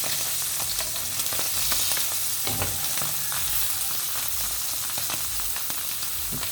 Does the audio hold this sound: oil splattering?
yes